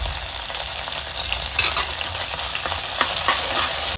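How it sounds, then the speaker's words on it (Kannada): Onion frying with curry leaves and mint in a pan for a chicken chilli dish, a steady close sizzle with scattered crackles and a few stirring scrapes, no voices. "ಆನಿಯನ್ ಸ್ವಲ್ಪ ಫ್ರೈ ಆಗಿ, ಕರಿ ಲೀವ್ಸ್ ಆ್ಯಂಡ್ ಸ್ವಲ್ಪ ಪುದೀನ,"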